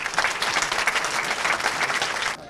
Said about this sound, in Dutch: Nog een applaus voor de winnaar.